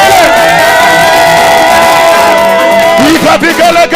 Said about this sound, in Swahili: Piga vigelegele kwa Yesu